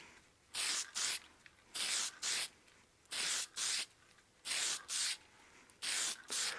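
Spray dye misted onto a turned wood platter mounted on a lathe chuck, in short hissing bursts, often two at a time, with brief quiet gaps between them, close and fairly loud.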